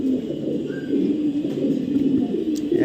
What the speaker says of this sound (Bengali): কত সুন্দর মার্শাল একটা কবুতর